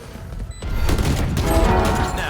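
Gunshots in the Valorant video game crack out in a quick burst of several rapid shots, loud and close, with game sound effects ringing around them.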